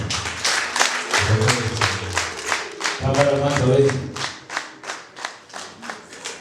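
At a Rwandan traditional engagement and dowry ceremony, an audience gives a guest a welcome of clapping and cheering, with rhythmic applause building into steady bursts while a voice calls out briefly over the crowd.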